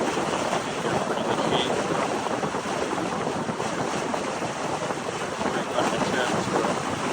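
Steady broadband rumble of a boat with a Caterpillar C18 engine underway on open sea, with wind buffeting the microphone and water rushing past throughout.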